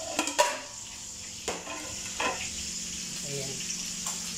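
Five galunggong fish frying in hot oil make a steady crackling sizzle, broken by a few sharp knocks and clatters from turning the fish, with no talking.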